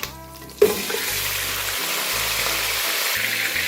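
Mutton, 1.5 kg, going into hot ghee in a karahi for white mutton karahi, setting off a sudden loud sizzle that holds steady as a continuous frying hiss.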